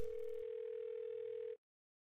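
Steady telephone dial tone from an in-game phone in Thimbleweed Park, a single clean continuous hum that cuts off abruptly after about a second and a half, leaving silence.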